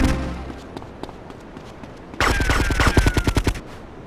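Rapid automatic gunfire from a Grand Theft Auto Vice City Stories gameplay shootout, a loud burst of repeated shots after a quieter stretch of scattered game sounds and footsteps.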